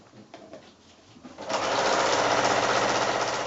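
Domestic sewing machine stitching binding along the edge of a quilt: after a few soft clicks and handling noises, the motor starts up into a steady, fast, buzzing run of stitches, close and fairly loud.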